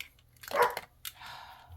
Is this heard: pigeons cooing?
no